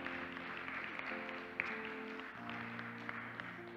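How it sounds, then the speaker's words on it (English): A church congregation claps in praise at the close of a service, steady moderate applause blended with sustained organ or keyboard chords underneath. "Let's give God a hand clap of praise."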